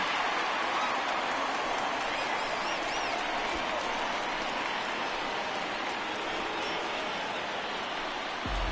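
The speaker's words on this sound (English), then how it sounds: "the home crowd has really come to life here in the bottom of the 8th" A baseball stadium crowd roars and applauds steadily after a home run in the bottom of the eighth inning of a Red Sox–Mariners game, a dense wash of cheering sustained throughout.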